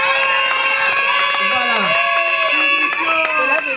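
Wedding guests at a civil marriage ceremony cheer and applaud loudly, with overlapping voices, shouts and whoops over a dense crowd noise that stays strong throughout, close by.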